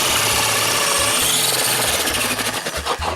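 An electric grater shreds carrots, a loud steady motor whir with grinding and rasping texture, close and continuous throughout.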